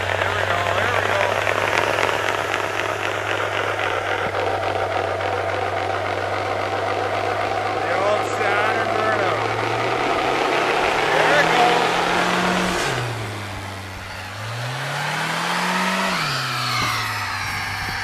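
An engine in a diesel-versus-gas race setup, hot and being revved hard, holding a steady low hum before sweeping up and down in pitch with several rising revs, while people talk and shout nearby.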